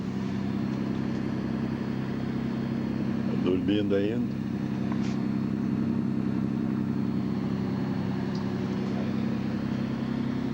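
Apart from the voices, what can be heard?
motorboat engine running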